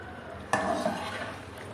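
Chicken karahi with cream stirred in a pan, heard as a single metallic clink of the spoon followed by a brief wet scraping over a low sizzle.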